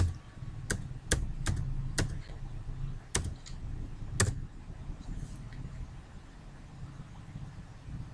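A computer keyboard is typed on at close range while a network command is entered, giving about eight crisp keystrokes spaced irregularly over the first few seconds, then quiet room tone.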